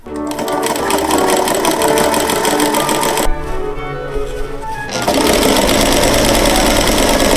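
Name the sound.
sewing machine with ruffler foot gathering tulle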